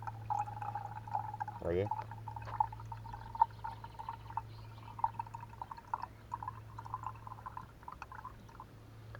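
Water drips steadily through a homemade filter into a container, faint small splashes repeating over a low hum, while a person briefly speaks.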